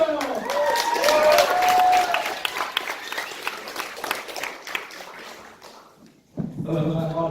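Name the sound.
applause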